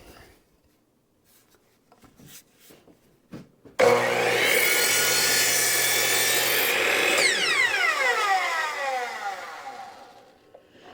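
A miter saw cuts through uneven wood for a chopping block leg: after quiet handling sounds, the motor spins up loudly and the blade bites for several seconds, then the whine winds down with falling tones.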